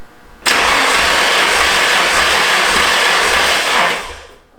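A Nissan 180SX engine cranks steadily on the starter for a compression test, a loud, continuous whirring churn lasting several seconds before winding down, with no talking.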